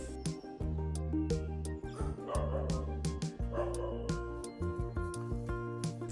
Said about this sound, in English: This is my dog Ram